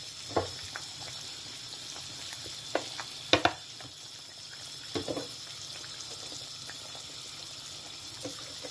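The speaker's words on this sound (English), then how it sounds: "Let me add the oil, the red oil now." Red oil goes into a pot of boiling native soup with meat: soft bubbling and a faint hiss, broken by a few sharp splashes and clinks, with louder bursts around the middle.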